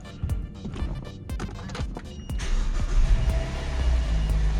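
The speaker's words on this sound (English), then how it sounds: "Now let's go start the car." A 2010 Mazda 6 with a newly replaced starter motor starts: a short cranking burst, then the engine catching and settling into a steady idle, close by.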